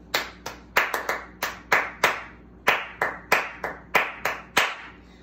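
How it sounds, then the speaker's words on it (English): Hands clapping a short ta-ti rhythm for a cup game, crisp close claps in quick pairs and single beats, about sixteen in all, alone with no talking. "Just clap it, here we go"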